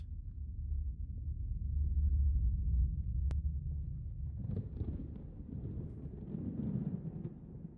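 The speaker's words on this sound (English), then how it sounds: "the sound of like a storm rolling in the background" A distant storm in the Helldivers 2 video game rolls in as a steady low rumble like thunder and wind, with one sharp click partway through; no talking.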